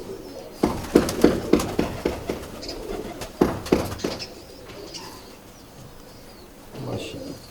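An old Feerozpuri pigeon, about twelve or thirteen years of age, coos softly in a series of short pulses, with a few sharp wing flaps and a voice nearby.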